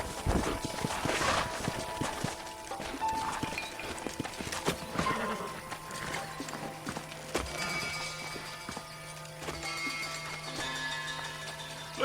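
Horses walk and clop over ground in a Western-frontier scene from the video game Red Dead Redemption, steady hoof beats mixed with rustling, movement and faint background ambience, with no clear talk.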